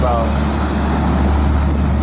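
A logging truck passes on a road, a loud, steady broadband engine and tire roar filling the whole stretch without a break.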